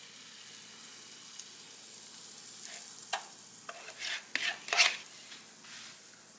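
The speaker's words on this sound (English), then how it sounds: "Take our cornbread mix and pour it in, and we're going to listen for the sizzle." Cornbread batter poured into a hot oiled iron skillet, giving a soft sizzle that swells in several short bursts near the end, close and fairly quiet with no talking.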